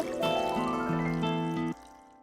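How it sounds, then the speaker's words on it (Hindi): Water poured into a mixture in a home kitchen, a steady continuous stream lasting under two seconds and then stopping abruptly, close and clear with no talking. "तैयार कर, अब पानी डाल दे।"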